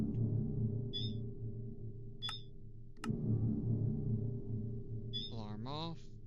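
An alarm is toggled on in a video game, sounding as a few short, bright electronic beeps spaced over several seconds above a steady droning background of game music and hum.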